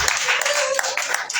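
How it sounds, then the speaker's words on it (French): A church congregation applauds and cheers in praise of the Holy Spirit during a French-language sermon on marriage: a dense, continuous wash of clapping, loud and close, with a brief sustained vocal tone rising partway through. "Acclame un peu le Saint-Esprit"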